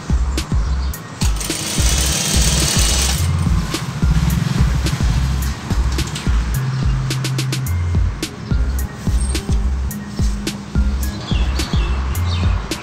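A sewing machine stitches pleated salwar fabric in a steady run of low, rapid mechanical ticking that lasts the whole stretch, while faint bird chirps sound in the background and nobody speaks.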